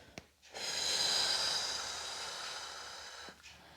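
A person breathes out during a neck and pelvic floor exercise: one long, steady, airy exhale lasting about three seconds, close and fairly soft, with no talking.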